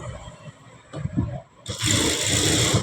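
A sewing machine stitches a blouse belt. A few soft handling noises come first, then the motor starts and runs as a loud, steady close-up drone to the end.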